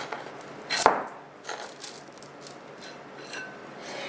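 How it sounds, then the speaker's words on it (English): Faux ice cream made from shampoo and cornstarch is scooped out of a container, giving a few soft scraping and squishing strokes, one sharper knock near the start, then quieter scoops. "Okay, we're going to scoop this out."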